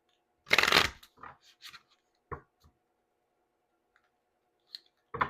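A quick burst of oracle cards being shuffled, followed by a few soft scattered taps and slides of cards, close and otherwise quiet.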